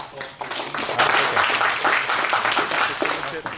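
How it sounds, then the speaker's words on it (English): Audience clapping after a keynote talk at a tech event, a broad rippling wash of many hands that swells and stays fairly loud, with some voices in the crowd. "All right, let's give a round of applause."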